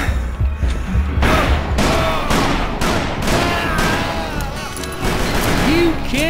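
Rapid gunfire from a Gatling gun in the Western shooter Call of Juarez: Bound in Blood, with sustained bursts and crashing impacts running loud through the whole stretch, thick and dense.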